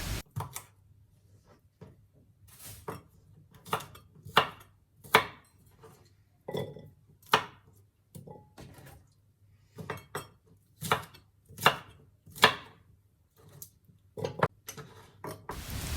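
A knife chops asparagus into two-centimetre pieces on a cutting board in a steady series of sharp, close knocks with brief pauses between bursts. Nobody speaks.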